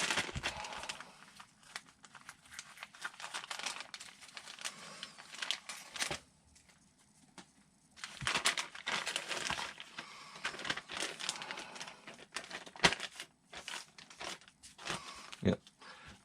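A plastic parts bag for a TLR 22T 4.0 1/10 scale 2wd stadium truck kit is rummaged through up close, giving bursts of crinkling and rustling broken by short pauses.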